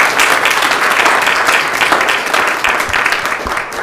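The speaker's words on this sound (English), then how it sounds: "We'll give them a round of applause." Round of applause at a township committee meeting for a local mobile food pantry, steady dense clapping from the gathered audience lasting the whole stretch, fairly loud and without talk.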